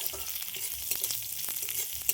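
Soft, steady sizzling with faint crackles, quiet and close, as hot fried spice tempering is poured into a wet chutney, with no voices.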